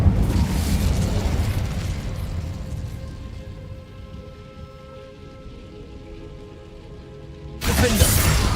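Incendio fire spell cast in Hogwarts Legacy, a broad crackling, rain-like whoosh of flame that fades over several seconds, then a fresh loud burst near the end.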